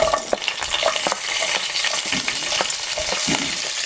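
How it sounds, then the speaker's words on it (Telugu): Dried red chillies and urad dal fry in hot oil in a pan, giving a dense close sizzle with frequent stirring scrapes throughout. "మినపగుళ్ళు వేసుకున్నాం సో ఇప్పుడు ఇందులో మిరపకాయలు వేసుకుంటాం"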